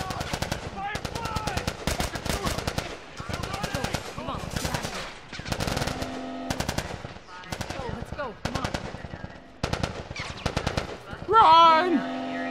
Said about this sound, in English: Run from the gunfire!